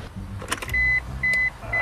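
A Cadillac with a flat battery fails to start: clicks and rattles, then an electric whirring motor buzzes in three short, loud bursts.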